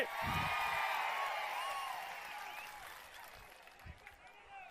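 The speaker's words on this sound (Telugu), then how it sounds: "గట్టిగా చప్పట్లు కొట్టి నిరసన తెలియజేయండి" A crowd claps and whoops at a political rally, applauding in protest; the broad wash of clapping is strongest at first and gradually fades, with a few scattered shouts and thumps toward the end.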